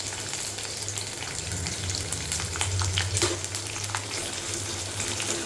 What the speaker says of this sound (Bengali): রসুনটা ভাজা ভাজা হয়ে গেছে, আর এখন এর মধ্যে দিয়ে দেবো কুচি করে রাখা পেঁয়াজ।